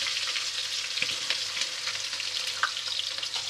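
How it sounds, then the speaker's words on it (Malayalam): Crushed ginger and garlic with green chilli fry in hot oil for kappa biriyani, giving a steady close sizzle with occasional light stirring clicks and no voices. "ഇതൊന്ന് നന്നായിട്ടൊന്ന് എണ്ണയിലൊന്ന് ആദ്യം മൂപ്പിച്ചെടുക്കണം."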